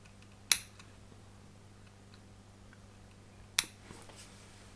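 Two crisp, isolated snips trim rope rigging on a wooden Vanguard Models HM Sherbourne ship model, close and quiet over a faint steady hum, spaced about three seconds apart.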